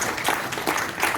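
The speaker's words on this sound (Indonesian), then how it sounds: "Berikan tepuk tangan untuk" Audience applause at a presentation by Mr Prabu Sihap for EA50, a steady wash of many hands clapping at once that stays dense and even throughout.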